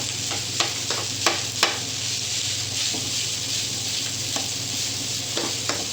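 Garlic fries in a pan for a breakfast dish, giving a steady close sizzle broken by several sharp scraping stirs.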